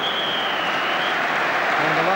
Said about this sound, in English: But the crowd applauding an excellent 45 minutes